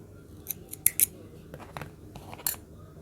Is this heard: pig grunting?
no